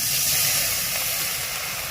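Water poured into a hot pan of fried ginger-garlic paste and Kashmiri red chilli, giving a loud, close burst of hissing sizzle that slowly eases over two seconds.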